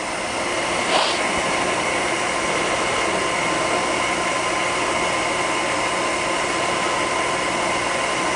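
Semitool 101F spin dryer motor running at a steady 1800 RPM with heaters and nitrogen purge on, giving a constant loud whirring hum with an airy hiss and no speech.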